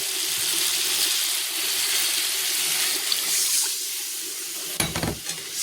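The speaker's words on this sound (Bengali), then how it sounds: "মশলাটা প্রায় কষানো হয়ে এসছে এবার জল দিয়ে দেবো" Water poured from a kitchen vessel into a pan of cooked masala with potatoes for a bhola fish curry, a steady close rushing splash that fades, followed by a brief clank of utensils near the end.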